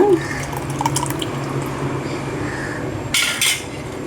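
Dissolved tamarind water is poured into a simmering okra tamarind curry (vendakkai puli kuzhambu) in a pot, a soft liquid trickle under kitchen background noise with a brief louder splash near the end.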